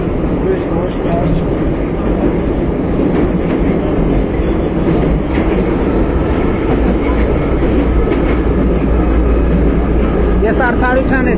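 Loud metro train noise inside a carriage, a constant heavy rumble and roar with rail clatter throughout, drowning out a conversation between people.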